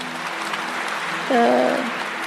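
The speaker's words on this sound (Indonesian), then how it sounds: "tepuk tangan Bu Tina" A church congregation applauds Bu Tina at a pastor's confirmation and ordination service, a steady wash of clapping under a brief sustained tone, with some voices mixed in.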